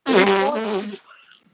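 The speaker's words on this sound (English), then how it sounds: "She can fart the national anthem." A single loud, tonal fart from a woman, rising into a buzzing, pitched blast for about a second before sputtering out into a few faint trailing squeaks.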